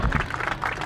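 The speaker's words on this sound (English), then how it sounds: "As you can hear from that round of applause" Brief burst of clapping from Boroughmuir supporters at an under-18 school rugby festival match at Merchiston Castle, a short round of applause heard at moderate distance.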